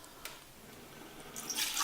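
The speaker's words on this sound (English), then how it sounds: "let's put the 2 cups of water in first" Water poured into an Instant Pot pressure cooker for steaming cabbage, a soft trickle with a brief splash early and a louder, hissing pour building near the end.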